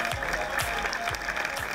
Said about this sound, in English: Let's welcome them with a big round of applause, everybody